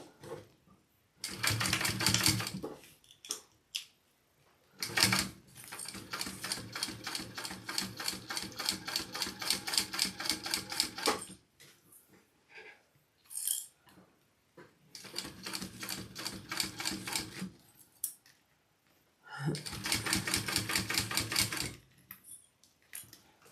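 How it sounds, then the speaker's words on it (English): A sewing machine top stitching fabric runs in several rapid bursts of steady needle clatter, separated by short pauses, close and clear with no talking. "I'm going to top stitch this. And then I'll go ahead and just baste it all down as well."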